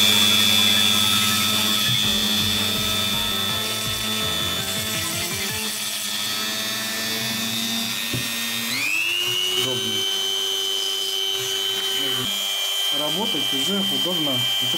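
Dremel rotary tool whirring steadily at close range, its motor whine stepping up in speed partway through and holding a high sustained tone, with voices talking intermittently underneath.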